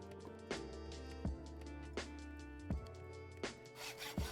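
Hammer repair in the game GregTech: New Horizons: a quiet series of rhythmic scraping, rasping strokes, repeating about every three-quarters of a second over a low steady hum.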